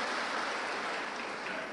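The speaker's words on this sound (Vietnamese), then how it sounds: "xin một tràng pháo tay nữa của các bà cho tất cả các ông ngồi ở trong hội trường này" Audience applause in a hall at a Buddhist dharma talk, a steady, even wash of many hands clapping, fairly soft and distant, with no pauses.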